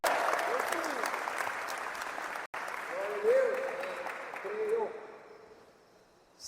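A church congregation applauds in a steady patter that gradually thins and fades. Voices and shouts rise over the clapping partway through.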